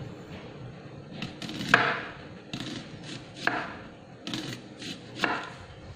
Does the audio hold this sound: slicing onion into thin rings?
yes